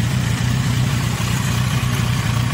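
A Yamaha Fazer 1000 motorcycle with a 1000 cc engine idles nearby, a loud, steady low rumble with an even throbbing pulse and no talk.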